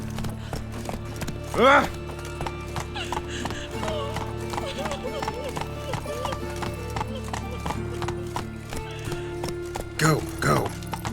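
Hoofbeats of Geralt's horse Roach from The Witcher 3 Wild Hunt clatter steadily throughout, galloping under game music, with brief shouts and spoken dialogue breaking in near the start and end.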